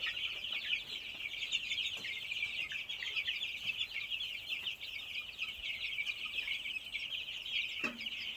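Three-week-old village chicks peep and cluck continuously as a dense, high chorus, steady and fairly close throughout with no voices over it.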